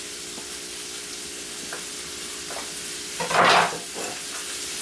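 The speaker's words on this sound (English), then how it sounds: "add in my cut of onions and bell pepper and celery. And I'm just going to stir this around" Chopped onions, bell pepper and celery stirred around in a hot pan, a constant close sizzle broken by soft scraping strokes and one louder scrape, no talking.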